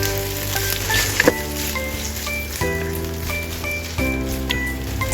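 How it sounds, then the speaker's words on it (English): Preserved olive greens stir-fry with sweet peas and corn in a hot pan, a steady close sizzle with light scraping and crackle under gentle background music. "the preserved olive greens are stir-fried, their savory and salty aroma comes right out"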